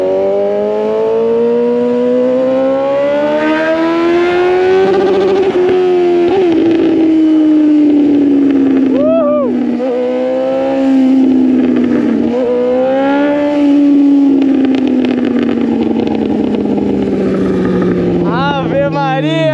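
A Suzuki GSX 750 motorcycle with only an exhaust pipe fitted roars loudly and close up, its engine pitch climbing and then dropping sharply several times as gears are shifted without the clutch.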